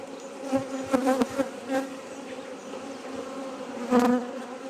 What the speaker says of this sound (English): A lot of bees on this